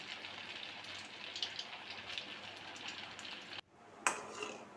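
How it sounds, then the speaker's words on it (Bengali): Battered vegetarian snack pieces deep-frying in hot oil after being flipped, giving a steady, dense, rain-like sizzle that cuts out briefly near the end and then surges back. "এক পিঠ হয়ে যাওয়ার পরে উল্টে দিয়ে আরেক পিঠ সুন্দর করে ভেজে নিচ্ছি"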